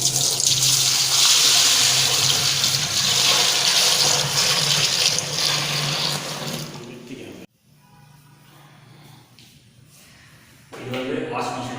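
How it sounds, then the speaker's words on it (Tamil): Water pours steadily into a washing machine through its inlet, a loud, close hissing rush that drops away partway through and returns more quietly near the end, with a voice speaking over it. "இது வாஷிங் மிஷினோட இன்லெட், அதாவது வாஷிங் மிஷின் உள்ள தண்ணி போடுறது."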